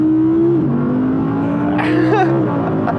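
A 2021 Audi R8 V10 engine revs up in manual mode, its steady drone climbing and dropping in pitch over a few seconds, loud and close, with a brief sharper flare of revs partway through.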